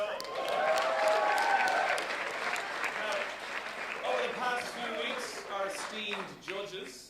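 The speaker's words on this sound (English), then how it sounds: "Round of applause" An awards ceremony audience applauds steadily, a broad wash of many hands clapping at moderate loudness, with voices and a presenter's speech coming through over the clapping in the later part.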